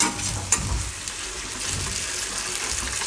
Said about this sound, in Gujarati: તો થોડીક વાર આને તેલમાં શેકી લેવાનું